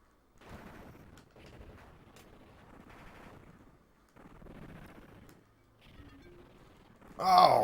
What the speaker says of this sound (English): I walked right into a grenade. And then a dynamite stack.